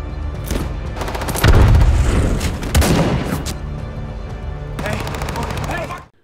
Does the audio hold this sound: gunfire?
yes